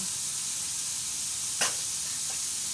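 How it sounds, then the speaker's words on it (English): Diced tomatoes go into a pan of cooking meat for goulash, with a soft, steady frying hiss and one brief sharper burst of sizzle as they land. "We're going to add our tomatoes in there now. Our diced tomatoes. Put them in here."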